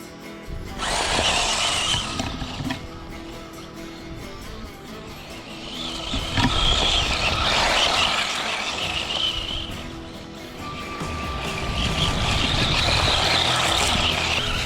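A Tamiya Hot Shot II 4WD RC off-roader driving outdoors, its electric motor whining in rising and falling surges as it speeds near and away, with no talking.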